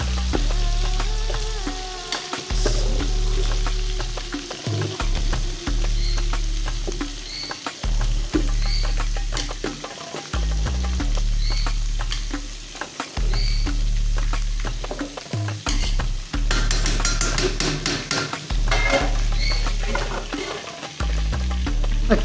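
Rice being stirred and fried in oil in a pan, with a loud, steady sizzle broken by repeated scraping strokes in a regular rhythm, close up and continuous.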